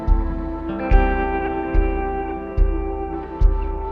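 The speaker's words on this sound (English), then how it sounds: "Let's see what happens when we do an antiquarian echo pad." A synthesizer echo pad preset called antiquarian echo pad sustains a layered tone, with soft swelling pulses recurring roughly every 0.8 seconds, each trailing off in echoing repeats, played alone with no voice.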